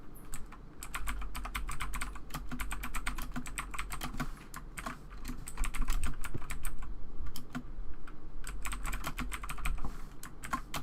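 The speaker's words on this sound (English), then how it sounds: "You have a mechanical keyboard." Rapid, continuous clatter of typing on a mechanical keyboard, close to the mic, with dense rhythmic keystrokes and no talk.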